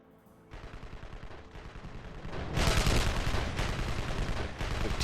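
Rapid, sustained gunfire from base defence guns on an island lair in Evil Genius, a dense rattling barrage that swells louder midway and keeps hammering with brief dips, with no talking.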